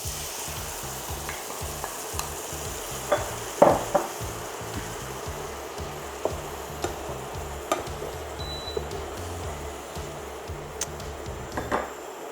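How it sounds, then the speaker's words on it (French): Liquid cream added to a pan of browned fried chorizo for a chicken sauce: a steady close sizzle and bubbling with occasional light clicks of a utensil against the pan. "Je vais mettre la crème liquide."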